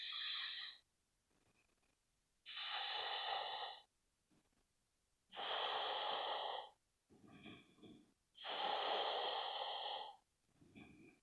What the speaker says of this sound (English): All you have to do is breathe into your Ujjayi breath, your oceanic breath.